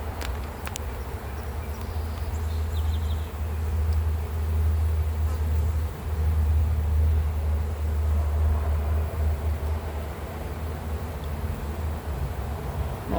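Honeybees swarm around an open beehive as a frame is moved aside during a hive inspection, producing a loud, continuous low buzz that holds steady and close with no voices.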